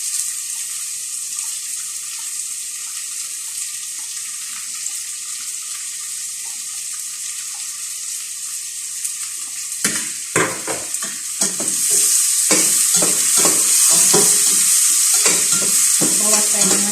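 Onions for chicken tinola frying in oil, a steady hiss that gives way to stirring clatter and then a louder, fuller sizzle near the end, heard up close with no talk.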